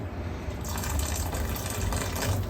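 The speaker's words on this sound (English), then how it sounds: "what I'm going to do is I'm going to put a little bit of hot water" Hot water is poured into a cooking pan of chicken dopiyaza, giving a continuous gushing, splashing fill that stays steady and fairly loud throughout.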